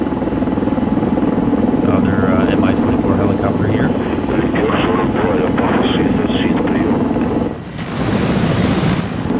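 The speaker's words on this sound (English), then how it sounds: "So you see the two Mi-24 helicopters here coming in hot" Two Mi-24 attack helicopters in Arma 3 close in, a loud continuous rotor roar with a brief dip near the end, while someone talks over it.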